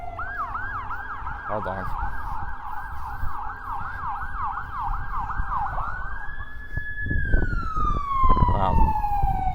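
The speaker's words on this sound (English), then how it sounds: "Gotta let the siren pass by." A wailing siren sweeps up and down loudly as it passes close by, then shifts to a steady tone and fades, with a brief spoken remark and traffic rumble.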